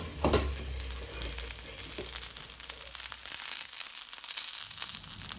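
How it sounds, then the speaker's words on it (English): Four sausages and some vegetables fry together in a pan, a soft steady sizzle at moderate distance with a clatter at the start and occasional light scraping, no voices. "I'm cooking four of the sausages along with some vegetables for the batch cooking"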